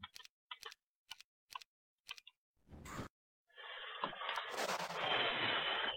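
Ballistae fire in a Heroes of Might and Magic III battle on the Jebus Cross map, Inferno against Rampart: a run of sharp, evenly spaced ticking shots, then a louder sustained burst of crashing impact noise.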